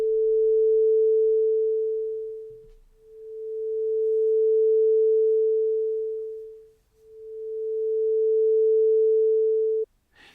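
A pure sine tone generated with amplitude modulation in Python swells and fades in three slow, smooth cycles, steady in pitch, ending abruptly with a brief click.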